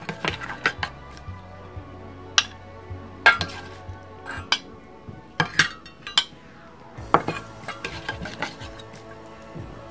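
A spoon clinks and scrapes against a dish while a cucumber tomato salad is mixed, giving a steady run of close, light metallic taps and rattles with soft scraping in between.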